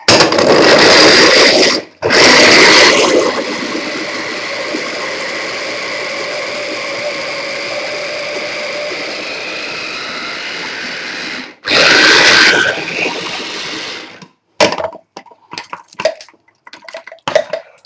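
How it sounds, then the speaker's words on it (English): A kitchen blender grinds a spice rub for lamb in loud, steady whirring runs with brief pauses between pulses, and a few clattering handling sounds at the end. "Where's my blitzer? Here's the blitzer."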